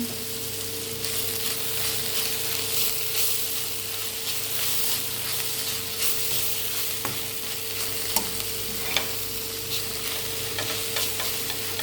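Cabbage thoran with grated coconut stir-fried in a pan over medium flame, a steady close sizzling hiss throughout with faint scraping clicks of stirring, no voices.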